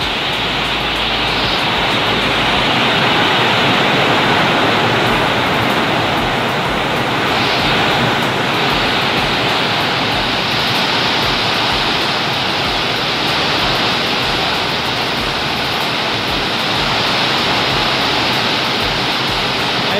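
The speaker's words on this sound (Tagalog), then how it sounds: "Grabe ito na ulan." Heavy typhoon rain pours in a dense, constant roar, with strong wind gusting through it for the whole stretch and no voices.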